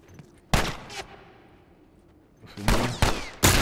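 Gunfire in The Last of Us Remastered, several sharp, loud, close shots with a gap of echoing quiet after the first pair and then a quick cluster of three more bursts, with no talking.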